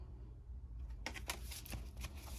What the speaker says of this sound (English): So I'm just gonna shuffle these real quick and then set out the cards.